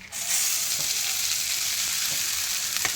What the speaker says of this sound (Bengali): এবার চিড়েগুলিকে দিয়ে দেবো।